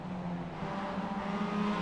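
Mazda MX-5 Cup race cars at speed make a brief, close, continuous engine roar with a slight rise toward the end.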